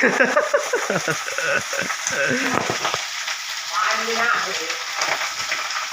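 Food frying in hot oil in a family kitchen, with steady sizzling and oil crackling and spattering throughout. Voices can be heard talking over the frying.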